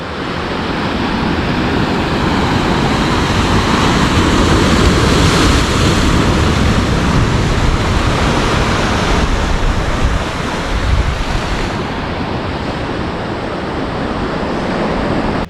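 Sea waves breaking below Kannur fort on the Kerala coast, a steady loud wash of surf mixed with wind buffeting the microphone, continuous and close with no talk.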